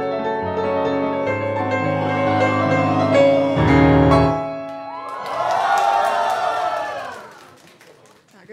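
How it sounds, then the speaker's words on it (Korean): A student band concert audience cheers and claps after a short keyboard solo, the crowd noise rising loud after sustained chords and then fading away. "그래서 솔로 끝나면 큰 호응과 박수 부탁드립니다"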